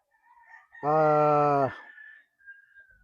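A Boston Roundhead LDT line gamefowl rooster gives one loud, clear crow lasting under a second, close by, with faint background sounds around it.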